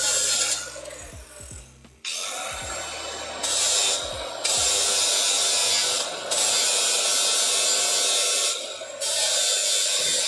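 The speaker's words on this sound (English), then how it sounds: "Just taking the time to grind." An angle grinder works metal on an exhaust manifold in a home garage fabrication setup, with loud continuous grinding in several long bursts that stop and restart. Short gaps fall between the passes, and no one talks.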